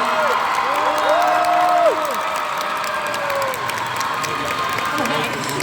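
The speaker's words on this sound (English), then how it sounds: "un dernier applaudissement quand même" A crowd at the NIJISANJI EN Q&A panel at Japan Expo Paris 2023 claps and cheers loudly, with high whoops and shouts rising over steady applause that eases slightly after the first couple of seconds.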